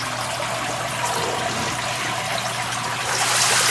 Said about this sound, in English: turn on the shower side.